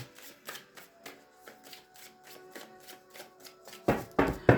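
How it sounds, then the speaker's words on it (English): Tarot cards are shuffled in a quick series of soft riffles and taps, ending with a few louder, crisper shuffles. "get you some good shuffles in"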